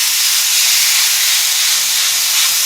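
Loud, steady hiss of skinless chicken searing in a hot skillet, continuous and close with no pauses or voices.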